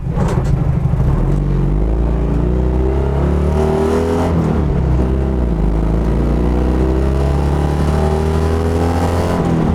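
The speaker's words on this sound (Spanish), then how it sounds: "Citroën Dian 6 de las 24 horas de Spa, de mi amigo Albert" A 40-horsepower Citroën Dyane 6 race car prepared for the 24 Hours of Spa drives on a wet track, its small engine droning loudly and steadily up close with shifting revs throughout.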